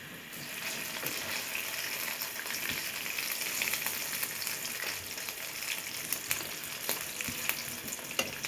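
Giant taro (mankochu) slices frying in a covered pan of oil, a steady dense sizzle with crackling pops running throughout, fairly close and without talk.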